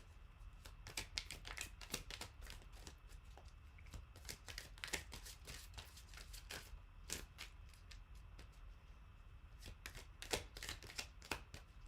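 Oracle cards shuffled and drawn by hand: close, rapid bursts of papery flicking and riffling in uneven clusters, with short pauses between them over about twelve seconds.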